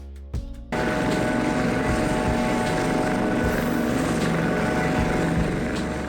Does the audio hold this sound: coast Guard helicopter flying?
yes